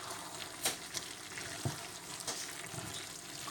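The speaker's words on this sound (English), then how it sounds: "Quick stir of the curry" Curry sizzles quietly in a frying pan as it gets a quick stir, with a steady low frying hiss broken by a few light scraping knocks from the spoon.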